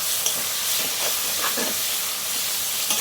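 Spices and ginger-garlic paste stirred into onions frying for tomato chicken, with a steady bright sizzle and hiss and soft scraping strokes of a spoon in the pan.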